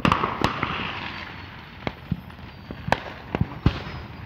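Fourth of July fireworks bursting in a quick irregular series of sharp, loud bangs, some close together, with crackle and rumble trailing between blasts.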